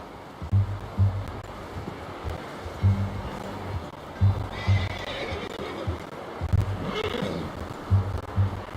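A horse in the Red Dead Redemption 2 game whinnies over a rhythmic clip-clop of hooves, with wind and a surf-like wash in the background; the neighs rise in a few bright bursts across the stretch.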